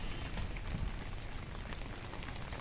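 Hail and rain fall steadily, a dense, fairly soft patter of drops and pellets striking surfaces, continuous and even with no voices.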